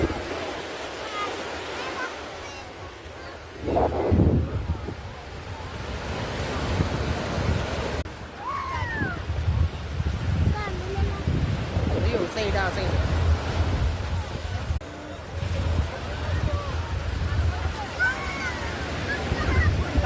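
Rough surf crashes and roars on the sea at Chavakkad, Kerala, with gusty wind buffeting the microphone, while people talk briefly over the churning sea.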